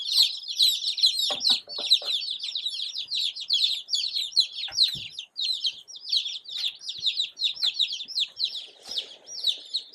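Young chicks in a small-frame brooder peep constantly in dense high chirps, a busy overlapping chorus close by with a few soft clucks and faint handling thumps.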